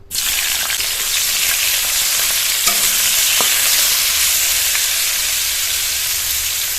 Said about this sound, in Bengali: তেলটা গরম হয়ে গেছে, অল্প পরিমাণে করলা দিয়ে ভেজে নেব।